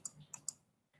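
Three quick, crisp mouse clicks in close succession at the start, followed by a faint softer click, all quiet and near while data is pasted into a statistics program.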